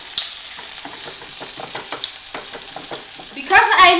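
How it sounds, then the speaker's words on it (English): Beaten omelet eggs with raw peppers stirred in a sizzling frying pan, a close crackle of frying with scraping stir strokes, then a voice speaks near the end. "Now you mix it."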